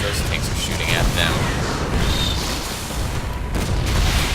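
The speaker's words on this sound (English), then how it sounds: "I guess just those tanks are shooting at them." Siege tanks firing during a StarCraft II match, heavy booming shots and rumbling explosions layered in a dense, continuous battle din, with a voice talking over it.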